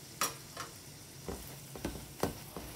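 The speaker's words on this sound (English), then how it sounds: "You have to keep stirring in the low flame until the rava is roasted well" Rava (semolina) being stirred and roasted in a pan over a low flame: scattered scraping strokes and soft ticks of the spoon against the pan, fairly quiet, with no voices.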